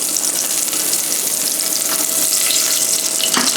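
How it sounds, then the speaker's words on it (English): Lemongrass and galangal sauté in an old pan on a stovetop, a loud, steady close sizzle with occasional stirring scrapes throughout. "I want to just saute that for a little bit."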